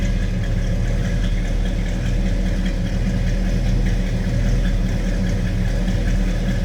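A 1969 Ford Torino Talladega, finished in Wimbledon white, idles in a steady, loud, continuous low rumble with an even pulse throughout.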